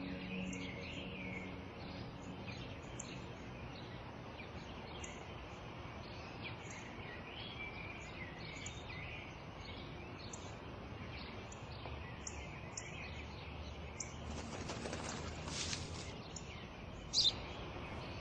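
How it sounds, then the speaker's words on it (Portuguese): A sparrow chirps faintly in quick, repeated high tweets over a steady background hiss, with no talking. "É um pardal."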